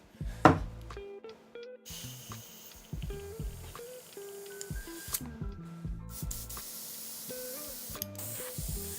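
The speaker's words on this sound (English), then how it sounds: "Do some back blowing into my airbrush." Airbrush back blowing with paint in the cup, giving short hissing spray bursts at close range with pauses between, over faint background clatter.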